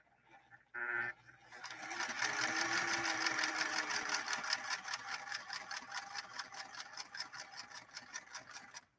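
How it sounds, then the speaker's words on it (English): Singer Merritt 1872 sewing machine sewing a straight stitch: after a short click and a brief whir, a fast, steady mechanical chatter runs close and loud for several seconds, tapering slightly as it continues. "straight stitching, and then we'll lay down a zigzag next to it"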